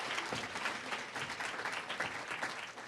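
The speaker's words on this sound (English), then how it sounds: "I want you guys to give them that great applause" An academy celebration audience bursts into applause for a guest: continuous, even clapping from many hands, moderately distant and fairly soft, without talk over it.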